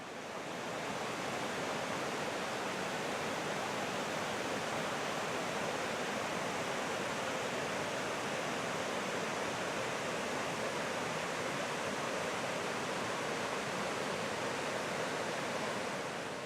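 Steady, dense roar of Middle Falls pouring over its brink into the river canyon at Letchworth State Park, a continuous broadband rush without pauses and no voices.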